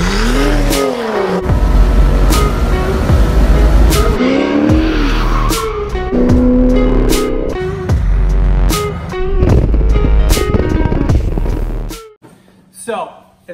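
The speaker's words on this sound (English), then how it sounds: "This time on low boost, I drive the E36 home." A turbocharged LS-swapped BMW E36 drives on low boost, the engine revving hard through repeated gear changes with tire noise, loud and close, before cutting out near the end.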